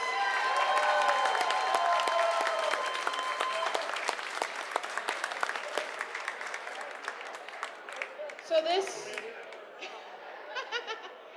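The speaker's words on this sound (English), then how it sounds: "give these ladies and my judges another big round of applause" A crowd at a pin-up pageant applauds loudly and steadily, the clapping gradually thinning out as a few voices and chuckles rise near the end.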